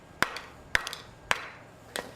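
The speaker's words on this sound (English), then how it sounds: "The reason why I used a wooden mallet for this versus a steel hammer" Three or four crisp knocks from a wooden mallet shaping a hot steel maple leaf bowl over a swage block, spaced roughly half a second apart, close and clear with a faint ring after each strike.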